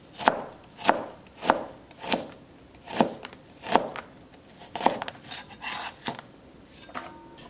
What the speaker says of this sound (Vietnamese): Táo đỏ mình cũng cắt sợi luôn.